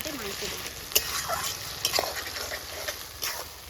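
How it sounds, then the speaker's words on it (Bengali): Garlic and ginger paste frying in oil in a pan for spicy chicken kosha, stirred steadily with soft scraping and a continuous low sizzle, with a few sharper clinks of the spoon against the pan. "ভালো করে নাড়িয়ে চাড়িয়ে এগুলোকে একটু কষাবো ভালো করে"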